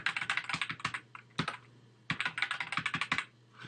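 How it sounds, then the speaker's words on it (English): Rapid keystrokes on a computer keyboard as a new password is entered, two bursts of close, crisp clicking separated by a brief pause, with no voices. "type in a new password"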